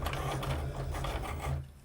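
A home printer at work beside a crafting desk, a close, continuous mechanical whirring with rhythmic feed pulses that eases off toward the end, with no talk.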